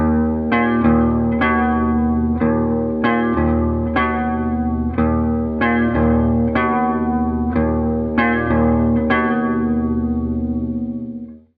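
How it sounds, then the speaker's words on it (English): Guitar through a flanger pedal with regen turned fully off and manual set low, giving a hollow comb-filtered tone; a low droning riff with rhythmic repeated strums pulses evenly throughout, loud and uninterrupted. "using the flanger, turning the regen all the way off, and turning the manual right down to get a sort of almost sort of a comb filter sound"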